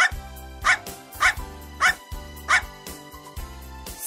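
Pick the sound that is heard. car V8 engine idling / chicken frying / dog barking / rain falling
dog barking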